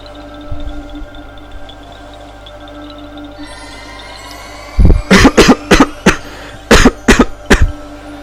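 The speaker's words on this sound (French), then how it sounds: "Je suis vraiment désolé, hein, j'ai une grosse toux." A man coughs hard in a rapid burst of about eight harsh, close coughs in quick succession after a quiet stretch with faint game music in the background.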